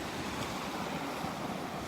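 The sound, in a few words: ocean waves on the beach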